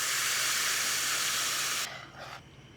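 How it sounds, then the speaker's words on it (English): Blended salsa verde hitting really hot oil, a loud, dense, steady sizzling hiss that cuts off sharply and drops to a softer sputter. "now we're gonna force them to take a step further by cooking with a really hot oil"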